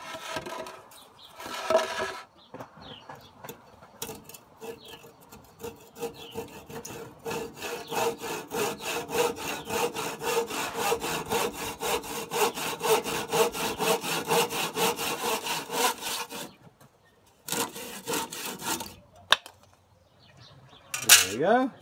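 Hand saw cutting through old recycled wood, a long run of rapid, steady rasping back-and-forth strokes, close and fairly loud, with brief pauses and a few knocks at the start and end.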